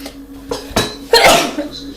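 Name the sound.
woman sneezing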